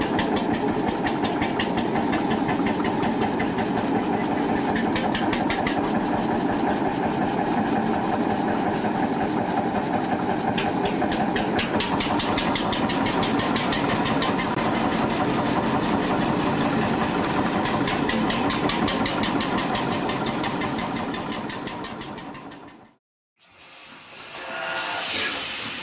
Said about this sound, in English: the big Deutz diesel engine, built in 1930 by German manufacturer Deutz, is a striking example of early industrial engineering.